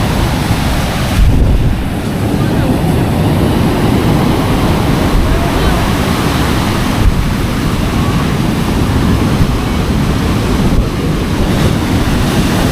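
Huge waves pound shoreline houses in a steady, heavy wash of surf and gusting wind, loud and near, with faint voices mixed into the roar.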